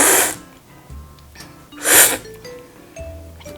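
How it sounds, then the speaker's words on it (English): Two sharp, airy slurps of tea drawn from an ordinary tablespoon, close and loud, separated by a quiet pause with faint clinks. "Slurp."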